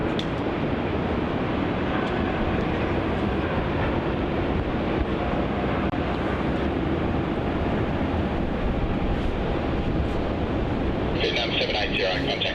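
A departing airliner's jet engines roar loud and steady at Melbourne Airport, a broad continuous rumble with a rasping buzzsaw edge, while a voice talks over it and a brief tonal radio burst sounds near the end.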